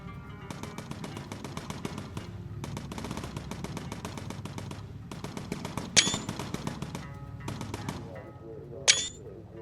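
Gunfire from a bomber's turret in the game Bomber Crew, aimed at a German fighter, in long, loud, rapid machine-gun bursts with short pauses between them and two bright metallic pings.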